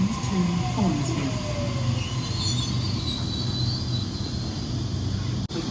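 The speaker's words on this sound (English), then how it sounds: "train on platform 2 goes to Hornsby via Eastwood" A Sydney train pulls away from the platform at Rhodes station, wheels squealing and the carriages rumbling steadily up close, with a person talking faintly in the background.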